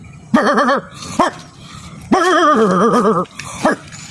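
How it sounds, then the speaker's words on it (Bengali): A dog lets out loud, close barks and drawn-out whining yelps in uneven bursts, separated by short quiet gaps. "মহিলা কুকুরটা আছে না"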